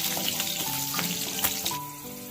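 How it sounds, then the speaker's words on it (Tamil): Garlic cloves sizzling in hot oil with mustard seeds for a horsegram curry, a steady close crackling fry with small pops throughout and no talking. "பூண்டு நல்லா ப்ரௌன் ஆகுற வரைக்கும் நல்லா கலந்து விடலாம்."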